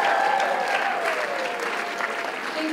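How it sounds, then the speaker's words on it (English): Steady crowd clapping at a 2023 high school talent show, a full round of applause for prize winners, dense and continuous from start to finish. "One more round of applause for all the winners that have received the prizes"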